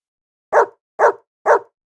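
A dog barks three times, close and loud, in evenly spaced short barks about half a second apart, with silence around them and no voices.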